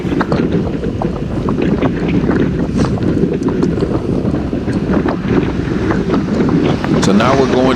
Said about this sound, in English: So now we're going into the north wind, and then we got the wind from the right.